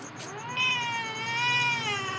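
A cat gives one long drawn-out meow that wavers slightly in pitch, close and fairly loud over a low steady background hum.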